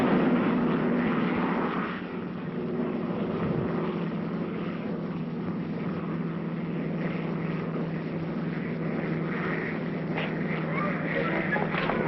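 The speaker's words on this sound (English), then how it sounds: "You fasten your seatbelt, please. It's preparing to land now." Steady airliner cabin drone as a plane prepares to land, a continuous low engine hum and airflow rumble throughout with no clear speech.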